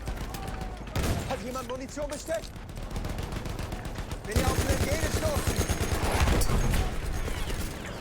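Battlefield 1 gunfire: rapid automatic bursts and single shots crackle steadily throughout, growing denser and louder in the second half, with a voice talking over the shooting.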